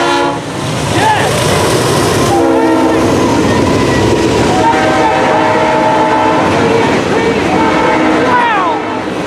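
Norfolk Southern locomotives led by NS 8353 rumble past close and loud with clattering railcars, sounding a multi-chime RS3L horn in several sustained blasts while excited people cheer and shout nearby.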